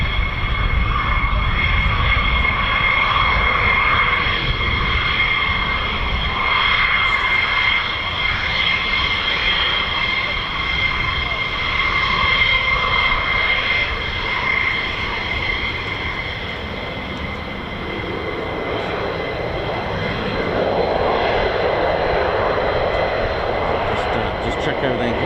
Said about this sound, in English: look at that C-17